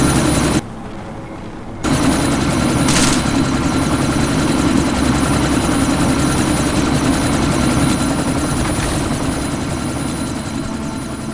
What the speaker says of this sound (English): Chopper's about to take off!